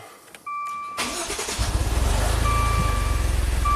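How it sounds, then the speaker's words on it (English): A Maserati engine cranks and catches, then settles into a steady, rumbling idle with a regular low pulse, close and loud, with no talking over it. "let's start it up, run it, see what happens"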